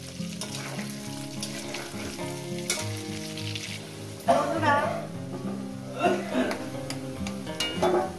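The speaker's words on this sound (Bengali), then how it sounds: "আলুগুলো আমি সুন্দর করে লাল লাল করে ভেজে নেব।" Potato pieces frying in oil until reddish-brown, for a chicken kosha, crackle loudly and continuously up close, with bursts of stirring and a voice talking over the sizzle.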